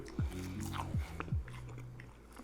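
Bites and chewing on McDonald's chicken nuggets, three crisp bite onsets over soft close-up mastication, quiet and with no talk.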